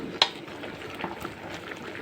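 Tomatoes and tamarind frying in a pan for tomato pickle: soft steady sizzling and bubbling close up, with a sharp utensil clink near the start and faint scraping taps later, no talking.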